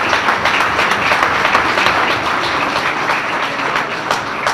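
Guests at the 2018 Grove City Chamber dinner applauding the country club for the meal, a loud, even wash of many hands clapping throughout the room.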